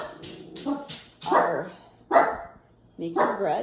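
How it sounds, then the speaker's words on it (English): Dogs bark in a quick burst of sharp yips and barks around a home, fairly close, with someone talking over and between them. "Sorry about the dogs."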